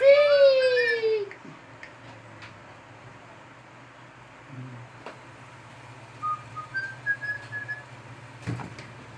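A cockatiel whistles a loud, clear sliding tone close by at the start while someone is bathing in the bathroom, followed by faint chirps and quiet background noise.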